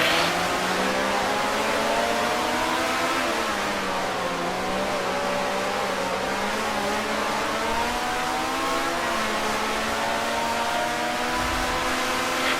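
Racing car engines roar together at a race start in the Grand Prix Legends video game, set at the 1965 Race of Champions, with rising and falling revs and steady loud droning throughout.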